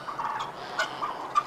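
Several turkeys gobble in an outdoor pen, with bursts of calling spread across a steady murmur of birds and a couple of sharper, louder gobbles standing out near the listener.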